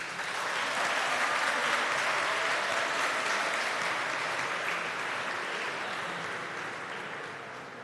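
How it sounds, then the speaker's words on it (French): Wedding guests give the newly married couple a long, steady round of applause at their nuptial ceremony. The clapping is dense and continuous, heard from a slight distance, and tapers gently toward the end. "Je vous demande de les applaudir."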